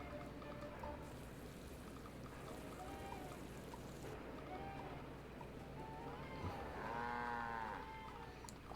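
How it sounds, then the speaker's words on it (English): A cow lowing in a video game, a faint drawn-out moo rising near the end over a steady background bed, with other soft game sounds earlier. "I hear a cow."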